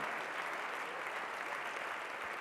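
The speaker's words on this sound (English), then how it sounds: "Give him a big round of applause here tonight as well." An audience at an evening event gives a round of applause, a dense, steady wash of many hands clapping throughout, fairly distant and continuous.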